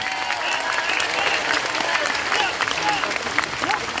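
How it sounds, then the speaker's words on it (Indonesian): At a large Islamic pengajian, the crowd keeps up loud, continuous clapping for several seconds. Cheers and scattered voices mix in throughout. "Tepuk tangan untuk BMI, keren ini."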